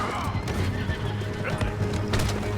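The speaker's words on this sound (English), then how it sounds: "Keep riding, Morgan." A horse neighs loudly while being ridden in the Red Dead Redemption 2 video game, with hooves clip-clopping underneath and a voice speaking briefly.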